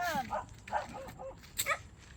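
Dogs barking in a farm setting where corn is being grown, several short barks in bursts under murmured talk and background noise, moderately near.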